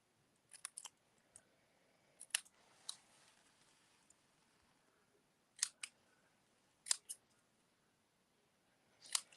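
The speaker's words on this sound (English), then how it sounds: "let's cut tag ends in both of these ends" Sharp scissor snips trimming the tag ends of a ribbon on handmade thank-you cards, a few quick crisp cuts in small clusters separated by quiet pauses, close and fairly faint.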